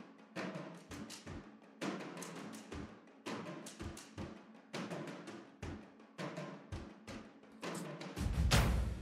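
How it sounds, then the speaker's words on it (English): Big epic toms from a percussion sample library pound in repeated rhythmic phrases of heavy, booming hits, loud and dense, with a larger low impact swelling at the end. "we've got these epic toms here that sound like this"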